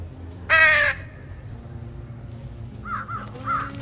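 Crows caw in the video game Trüberbrook: one loud, harsh caw up close, then a pause and a quieter run of repeated caws farther off.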